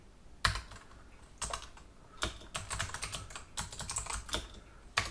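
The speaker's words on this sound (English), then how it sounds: "Dang it, I cannot type" Rapid, uneven keystrokes on a computer keyboard come in short bursts of clicks and taps, close and fairly quiet, with no talking.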